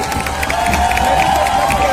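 A crowd at the 2021 Republic Day parade applauds the ex-servicemen's tableau, with dense clapping and cheering under a sustained tonal sound and a voice.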